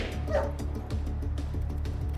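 A dog barks and yips in a few short bursts with a whimpering edge, fairly quiet and set against a low musical background from a film scene.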